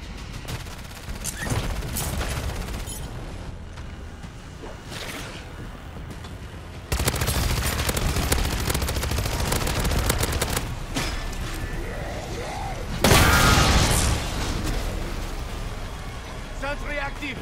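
Submachine gun fire in the MW3 Zombies video game, rapid bursts of shots rattling over a steady noisy game background, with a louder burst near the end and a voice talking over the action.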